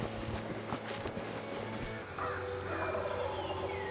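A wild turkey calls during a spring turkey hunt, its gobbling and yelping heard at a distance over steady background noise.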